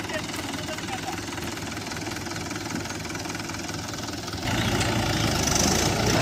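A tractor engine strains to pull a stuck heavy vehicle free. It gives a steady, loud, low diesel drone that grows heavier and louder toward the end, with people talking over it.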